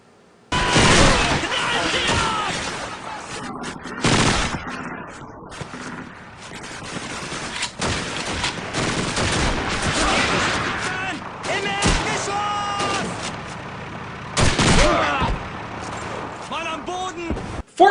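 Pitched combat in the video game Call of Duty 2, with loud, close rifle and machine-gun bursts and sharp impacts arriving in irregular volleys, some faint distant fire, and voices heard in between.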